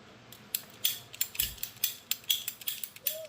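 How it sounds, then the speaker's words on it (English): Snipping through a car radiator hose on a Charger with a cutting tool, a rhythmic series of sharp ratcheting clicks and crunches, about a dozen in quick succession, close and quiet. "So we're going to go ahead and cut this first one off as a test run."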